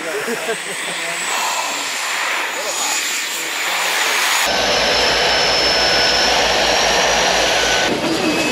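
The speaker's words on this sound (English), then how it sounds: "The second plane is on its way in, and we are delighted." An airplane flies in to land on an Antarctic glacier, a loud continuous engine roar that deepens and steadies midway, with a person speaking briefly.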